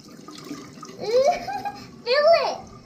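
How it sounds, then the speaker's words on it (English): Running tap water while children wash their hands with homemade soap at a sink, a steady splash underneath as young voices chatter and exclaim over it. "Let's go wash our hands."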